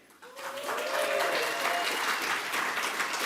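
Audience applause and cheering for sponsor Telford College at an awards event, swelling up quickly from quiet into a loud, sustained wash of clapping that holds steady to the end.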